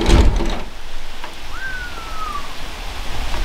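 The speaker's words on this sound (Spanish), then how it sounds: "Oh, qué chulada, está lloviendo. No muy fuerte, pero está lloviendo." Light rain falling outdoors at a ranch, a steady soft broadband hiss throughout with a louder burst at the start and a brief bird-like whistle partway through.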